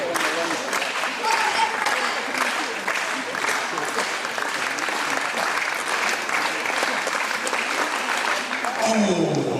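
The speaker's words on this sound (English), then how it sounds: "a round of applause, ladies and gentlemen, a great singles wide time" Indoor crowd at a BFTTA indoor series meet applauds athlete Tara Andrews in the finishing area, with loud, steady clapping and cheering sustained for nearly ten seconds while an announcer talks over it.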